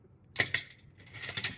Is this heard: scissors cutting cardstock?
yes